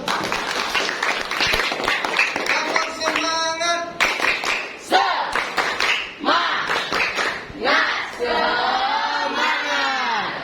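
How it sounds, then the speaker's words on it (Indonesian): Schoolchildren in an Indonesian classroom clap for a classmate after a prayer, with a dense patter of hands mixed with excited shouts and voices throughout. "tepuk tangan"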